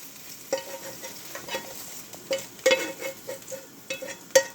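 Egg white fries in a pan while a spatula breaks it apart, with repeated clicking taps and scrapes over a soft steady sizzle, close and irregular, with no speech.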